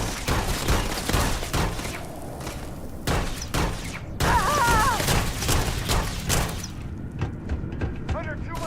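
Gunfire in the video game Starfield: dense bursts of automatic shots and heavy booms, loud and close, with brief lulls between volleys and game voices shouting over the fighting.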